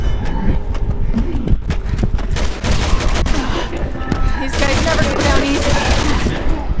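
Dense, rapid gunfire in Resident Evil 6 co-op play, with a steady stream of overlapping shots and impacts sustained throughout, loud and continuous amid game noise.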